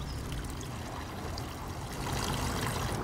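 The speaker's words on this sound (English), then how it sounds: "All over the city you've got the fresh water fountains that are free to use" Water from a free public drinking fountain in Rome pours in a steady, close, splashing stream, with continuous broadband rushing and no talk.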